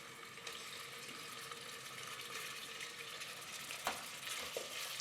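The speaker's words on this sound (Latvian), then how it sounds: "Cepu gaļu karstā eļļā." Meat sizzles steadily in hot oil or lamb fat in a thick-walled pot for Uzbek plov, a constant close frying crackle with a couple of brief sharper pops and stirring clinks.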